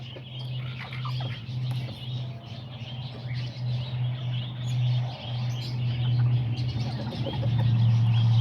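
Kikiriki hens and chicks cluck and peep softly amid scattered chirps, with a steady low hum running beneath the whole stretch and no voices.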